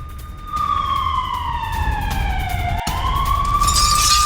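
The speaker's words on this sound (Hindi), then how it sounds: "शेर यीशु इलाके में बज रहे हैं मिसाइल सायरन।" A loud wailing alert siren sweeps slowly down and back up in pitch, sounding continuously over a low background rumble during wartime missile alerts.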